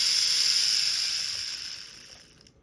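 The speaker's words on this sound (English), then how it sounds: "that is running just about as well as the stock factory motor" Rivarossi ball-bearing model train motor running after reassembly, a high steady whine with slight vibration that winds down and fades to silence over a couple of seconds.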